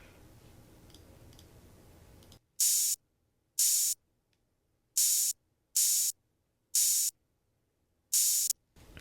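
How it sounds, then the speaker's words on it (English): Six bursts of open hi-hat sample from a beat ring out alone after a steady bed of low white-noise fuzz, each a bright sustained hiss lasting about a third of a second with short silent gaps between. "And now I have this second open hat,"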